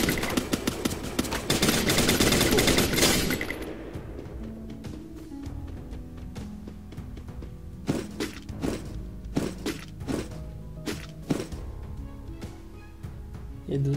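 SMG gunfire in Garena Free Fire: a dense, loud burst of rapid automatic fire at the start, then a run of separate sharp shots and thuds at irregular intervals. Faint game sounds continue in between.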